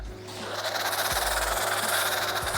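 A cheap $24 foam cannon sprays with a steady, fast buzzing rattle like a machine gun, loud and continuous throughout with faint clicks underneath.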